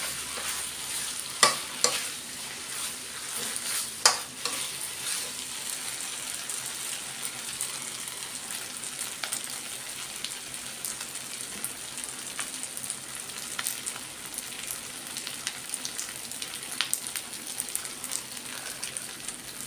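Pad see ew noodles stir-fried in a pan for two, a steady soft sizzle with occasional sharp scraping clicks of a utensil against the pan, fairly quiet and continuous.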